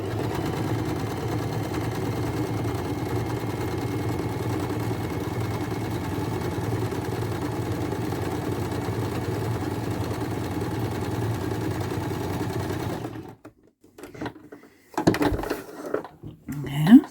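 Domestic sewing machine fitted with a fringe foot stitching steadily along the edge of a row of stitches, a continuous motorised whir for about thirteen seconds before stopping, followed by a few faint handling clicks.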